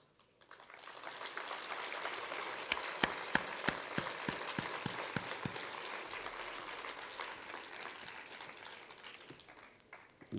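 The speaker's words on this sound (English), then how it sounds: "at least got to listen a little higher decibel in terms of claps noise" Students at a university inauguration programme break into sustained applause, dense crowd clapping rising quickly and holding steady with a few sharp individual claps standing out before it fades.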